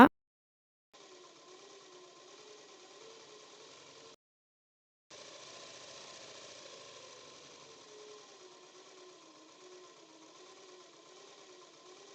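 A sewing machine stitching lehenga blouse fabric, running in a steady whirring hum, pausing briefly, then resuming for a longer even run; close and moderately quiet with no talk.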